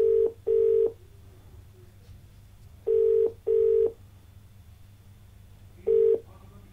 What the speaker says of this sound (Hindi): चलिए फोन लगाते हैं अपने अगले दर्शक को